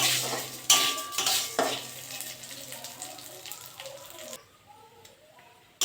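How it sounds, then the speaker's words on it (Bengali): Lentils fry in hot mustard oil in a pan, heard as a soft crackling sizzle broken by sharp clanks of a metal spoon stirring against the pan, with a few faint water sounds. "তেলটা গরম হয়ে গেছে, ডালগুলো দিয়ে দেবো। ভালো করে ডালটা ভেজে নেবো।"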